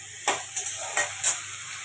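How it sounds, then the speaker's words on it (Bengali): Eggplant pieces frying in oil in a pan, a quiet steady hiss broken by four short scraping stirs spread evenly across the moment. "দেখো বেগুনগুলো কিন্তু আমার লাল লাল করে আমি 5-7 মিনিটের জন্য ভালো করে ভেজে নিয়েছি"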